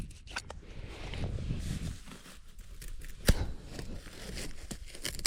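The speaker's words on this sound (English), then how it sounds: "Okay, let's cut this hay up." A dull knife saws and tears through hay on a ranch, giving rough crunching and rustling scrapes close by with a couple of sharper snaps, moderately loud throughout.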